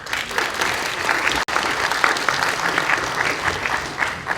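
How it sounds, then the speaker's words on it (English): An audience at a startup competition event in Varna applauds the announced prizes, steady, dense clapping that keeps going for several seconds with a brief dropout partway through. "Applause for that."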